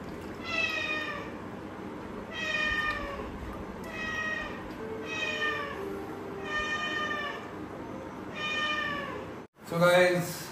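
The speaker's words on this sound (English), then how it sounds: "This is my cat. She's trying to jump in" A house cat meows over and over from outside while trying to get in, about six loud, drawn-out calls at a steady pace, close by, then a brief different clatter at the end.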